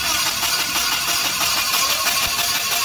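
An engine cranking during an ignition system test, a continuous, loud mechanical whirr that holds steady throughout without catching.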